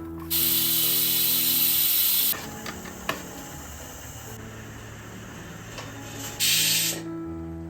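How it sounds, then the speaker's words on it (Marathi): A pressure cooker holding dal and rice lets out two loud bursts of hissing steam: one long release of about two seconds, then a shorter one near the end. Softer kitchen clatter sits between them. "वरण भाताचा कुकर एकीकडे लावलाय"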